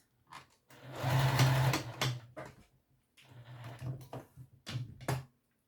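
A sewing machine bastes an elastic piece in place, running close and steady in a few bursts separated by short pauses, with no talking.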